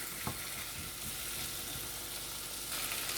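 Chickpea curry with no-salt-added cooked chickpeas being stirred in a pan, a steady sizzle running throughout with a few soft spoon scrapes early on, close and alone with no talking.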